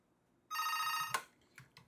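A phone rings once with a short, bright electronic trill, followed by a few faint clicks in a quiet room.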